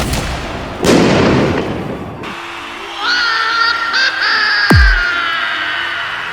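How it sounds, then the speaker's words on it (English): A giant circus cannon fires inside a tent, a loud booming blast with a rushing burst, then whistling tones and a sharp falling boom, all heard close and without talk. "has just been shot out of the giant cannon"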